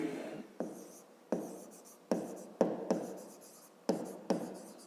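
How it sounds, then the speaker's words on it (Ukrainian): Pen or chalk writing out a fifth-grade math solution on remainders, a steady scratching in about eight distinct strokes, each starting sharply and fading, close and fairly quiet with no talking. "Давайте ми спочатку запишемо"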